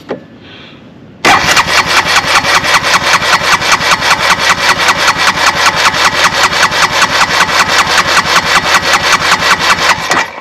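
A Honda ATV engine, recently pulled from a creek submersion with water in it, catches after a short crank and settles into a loud, close, rapid and steady idle chug.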